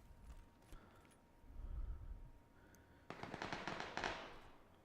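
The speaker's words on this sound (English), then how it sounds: "Well, that was gunshots." Bursts of rapid gunfire crackle in PlayerUnknown's Battlegrounds, sharp volleys following quieter distant pops, with no speech.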